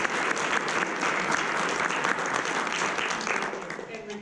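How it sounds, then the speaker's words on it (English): Sustained applause from an audience closing out a family recovery panel, dense steady clapping that fills the room evenly and tapers slightly at the end. "Let's just give a great round of applause."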